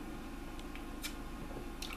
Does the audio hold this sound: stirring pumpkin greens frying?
no